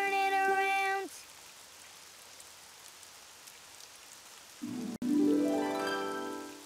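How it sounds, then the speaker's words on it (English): Rain falls outside in an animated children's show, a faint, steady hiss of drops heard between bright tonal musical phrases at the start and end. "Oh, it's raining outside."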